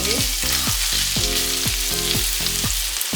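Chopped garlic, about a tablespoon, sizzles in a pan over a medium flame, a steady close frying hiss that holds for the whole stretch with no talking.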